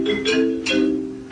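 A Wurlitzer theatre organ's marimba at the Fargo Theatre plays a few quick mallet notes, close and fairly loud, over a sustained organ tone.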